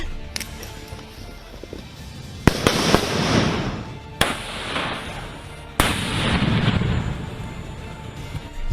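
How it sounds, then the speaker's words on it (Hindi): Hand grenade explosions during Indian Army combat training boom out as three sharp blasts spaced over several seconds, each trailing into a long rumbling decay, loud and fairly distant. "हैंड ग्रेनेड फेंक कर दुश्मन को तबाह करना"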